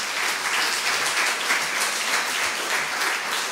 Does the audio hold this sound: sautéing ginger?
no